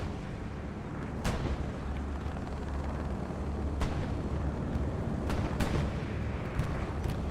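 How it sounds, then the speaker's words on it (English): A bombing run in the Hell Let Loose war game on the Kharkov map: a rumbling bed of distant blasts and gunfire, broken by several sharp, loud explosion cracks spread unevenly over the stretch. "We got a bombing run coming in from Commander Will B."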